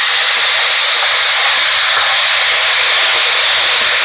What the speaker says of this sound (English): So this is 3 cups of water going in here.